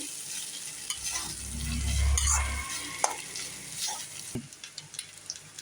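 Garlic rice being stirred in a frying pan, a steady scraping sizzle that swells in the middle, with sharp spoon knocks against the pan toward the end and no talking.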